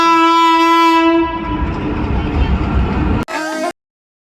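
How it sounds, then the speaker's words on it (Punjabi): A train pulling into a crowded station during the Vaisakhi fair at Talwandi Sabo sounds a loud, sustained horn, then gives way to a heavy rumble and rattle of wagons that cuts off abruptly. "ਟ੍ਰੇਨ ਆਪਣੀ ਜਿਹੜੀ ਆ ਸਟੇਸ਼ਨ ਤੇ ਪਹੁੰਚ ਗਈ ਹੈ"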